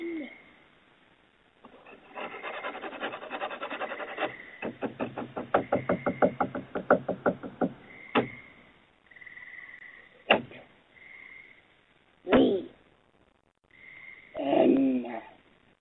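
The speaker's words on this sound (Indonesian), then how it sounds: "terdengar suara ketukan pintu yang sangat keras" Loud knocking on a front door, picked up by a doorbell camera: a rapid series of raps followed by scattered heavy thumps and strange vocal-like sounds.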